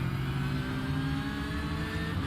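Race car engines in an iRacing Porsche 911 Cup race with a BMW running alongside, a loud sustained engine drone with layered harmonics and slight pitch shifts as the cars run side by side.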